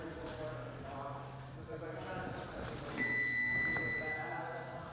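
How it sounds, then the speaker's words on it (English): A 30-second round timer beeps during a boxing sparring session, a steady high electronic tone sounding for about a second over ongoing commentary and gym noise. "That's 30-second timer for this round."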